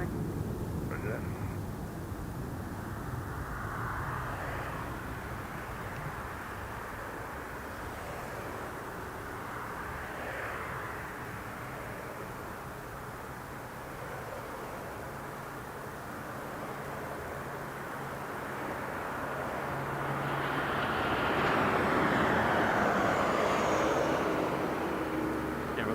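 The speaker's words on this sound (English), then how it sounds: "go ahead and score this landing right here" An airliner lands at Las Vegas Harry Reid International Airport with a broad, sustained jet roar that builds toward the end, heard from a distance while someone talks over it.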